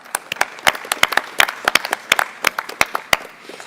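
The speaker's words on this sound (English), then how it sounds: "Could we please give them a round of applause?" Audience applause for Canadian Olympic athletes at a Milton event, a sparse scattering of individual sharp claps with an uneven rhythm, fairly close and clear with no talking over it.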